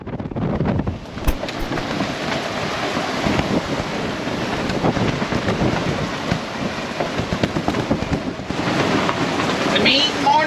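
Strong wind roars across the microphone with broadband rushing and waves surging against the hull of a sailboat at sea, with reefed main in 35 to 40 knot beam wind off Yemen in the Gulf of Aden; loud and continuous throughout.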